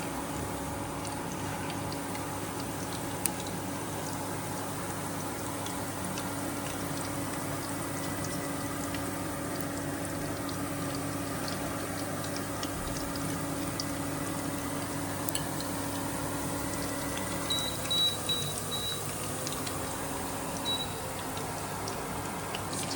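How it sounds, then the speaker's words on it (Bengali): Dough balls frying in oil give off a steady, even bubbling hiss that stays at one level, with faint small ticks scattered through it. "এবার এটাকে বলের আকৃতি বানিয়ে ফ্রাই করলাম"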